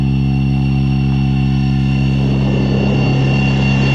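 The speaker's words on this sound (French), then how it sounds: "Voilà, il vole à l'envers notre hélicoptère." Flywing FW450 V3 RC helicopter flying inverted gives a steady, loud, high-pitched rotor and motor whine that holds constant without a break.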